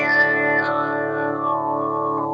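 Electric guitar notes played through a Craig Anderton envelope follower wah effect, a sustained tone whose sweep slides down over about two seconds, alone.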